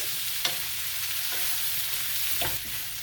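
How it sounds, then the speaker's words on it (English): Chicken and vegetable stir-fry with garlic in a pan, stirred over a steady sizzle, with a few soft scraping strokes of the stir. "Now we're gonna give them a stir."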